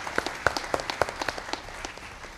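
An audience applauds the poet Anil Joshi at a Gujarati literary gathering, with scattered, fairly sparse claps that peak early and then thin out over a couple of seconds, heard without any speech.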